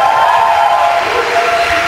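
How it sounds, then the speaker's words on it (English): A press-conference crowd in Toronto roars and cheers steadily, a loud, dense wash of many voices close around, with no individual words standing out. "Cheer, enjoy that cheer now"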